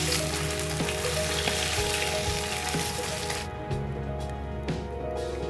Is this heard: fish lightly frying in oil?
yes